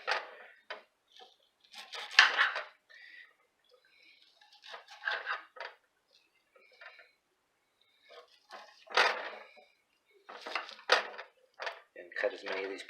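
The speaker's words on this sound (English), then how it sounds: "Choppity chop chop." A knife chops ingredients for chicken cream corn chowder on a cutting board, sounding as irregular clusters of sharp, close taps and knocks separated by short quiet gaps.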